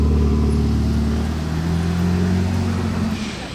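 A green Porsche 992 GT3 RS sports car rolls past with a steady, loud low engine drone and road rumble that eases off slightly near the end, with no voices.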